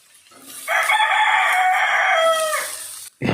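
A rooster crows once, loud and close, in a single long drawn-out call that rises and then trails off, heard on its own with no talk, followed by a brief knock at the end.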